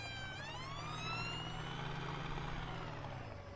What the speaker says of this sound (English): Police car going past.